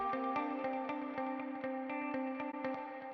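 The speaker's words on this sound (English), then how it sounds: "And a lot of reverb." Clean electric guitar with compression, a dotted-mode delay and heavy reverb rings out in sustained, shimmering chords with rhythmic repeats, played alone at moderate level in a song mix.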